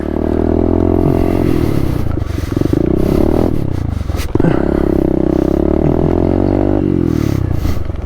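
A small pit bike engine runs close by with a buzzy, harmonic drone, dipping and rising as the throttle changes and briefly cutting out midway before it picks back up.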